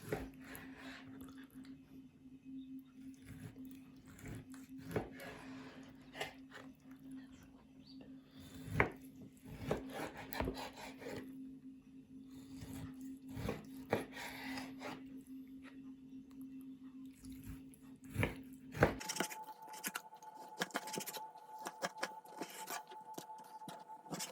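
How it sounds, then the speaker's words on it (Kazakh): A knife cuts liver into frying-size pieces on a board, soft repeated slicing and tapping strokes, faint and close, with a steady background hum that gives way to a different tone near the end; no talking. "Енді қуыратындай қылып кесіп аламыз."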